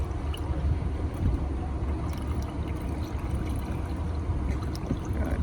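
Coolant glugs steadily from a bottle into the reservoir of a 2002 Dodge RAM 1500 pickup truck, a continuous low liquid pour with soft gurgling and no pauses.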